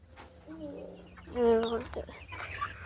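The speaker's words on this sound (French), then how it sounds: "Là, c'est tous les poussins réunis." A group of young chicks gathered together on a farm, giving soft clucks and a few higher peeping calls, fairly close and quiet against faint background noise.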